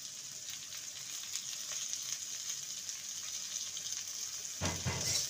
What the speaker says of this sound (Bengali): এবারে দিয়ে দেবো কিউব করে কেটে রাখা পেঁয়াজ।